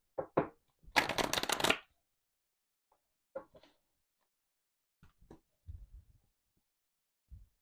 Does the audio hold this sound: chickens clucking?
no